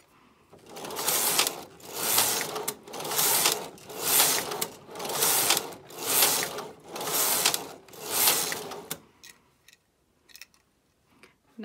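A Silver Reed or Singer knitting machine does an automatic e-wrap cast-on as its carriage makes about seven rhythmic passes, each one a swelling ratcheting clatter, then a few light clicks at the end, with no talk.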